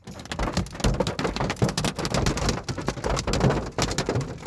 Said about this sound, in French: on risque de se faire frapper par une monstrueuse tempête de grêle à tout moment